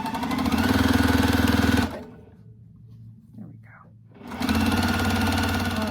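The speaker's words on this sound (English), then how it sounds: "I sewed a 1/4 inch seam on either side of that line." A sewing machine stitching a quarter-inch seam runs in a steady, even whir, stops for about two seconds with faint handling noise, then starts up again.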